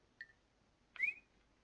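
A whistle sound effect from the video game Clouzy! gives two short whistled notes: a brief steady tone, then a longer one that swoops upward and fades, clear over near-silence.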